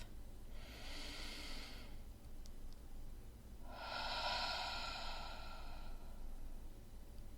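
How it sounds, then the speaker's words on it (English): Two slow, deep breaths in a quiet room, each a soft airy rush lasting about two seconds with a pause between, close to the listener and with no talking. "just take a breath"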